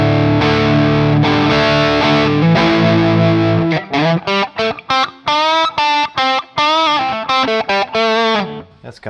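Heavily distorted electric guitar through a smart guitar's built-in distortion amp preset: first sustained ringing chords, then a run of choppy, staccato single-note riffs with short gaps, loud and up front with no voice.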